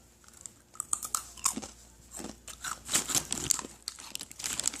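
Crunchy snacks and tteokbokki being bitten and chewed close up, with crinkling packaging, a steady run of crisp crunches and mouth sounds and no talking.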